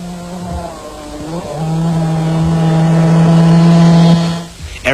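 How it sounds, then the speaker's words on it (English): Yamaha off-road racing motorcycle held at full throttle during a 1991 desert race in South Africa, ridden on a flat rear tyre; a loud droning engine note that climbs and holds high, then cuts off abruptly near the end. "Our brave Brian Bontekoning had ridden nearly 200 kilometres with a flat back tyre, but still had the throttle wide open"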